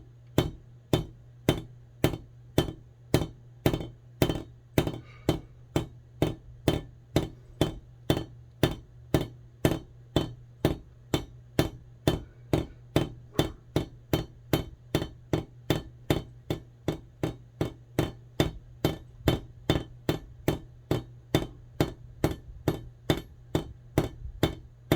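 Steady hammer peening on a straight razor, dozens of sharp metallic strikes in an even rhythm, close and loud over a low constant hum, with no voices.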